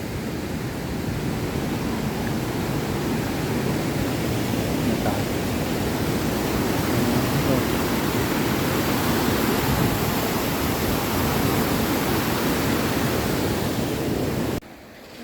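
Rushing water pours steadily and loudly at the Li Phi waterfall in southern Laos, a dense, unbroken roar that holds for nearly the whole stretch before cutting off abruptly at the end.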